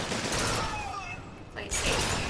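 Gunfire in Bioshock Burial at Sea: a rapid burst of shots at fairly close range, a brief lull, then more firing, with someone talking over it.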